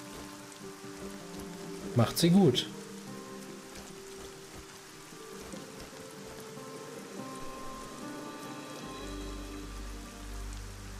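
Steady rain patters across a scene in the fantasy role-playing game Arcania: A Gothic Tale, a continuous soft hiss under the whole stretch while someone speaks briefly and a louder burst of other game sound cuts in early on.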